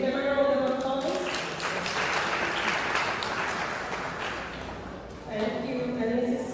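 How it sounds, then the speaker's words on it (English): Audience applause from parents at a Grace Foundation event, steady clapping filling the room for several seconds, with voices trailing in around the start and end. "Even our parents, would you give a round of applause?"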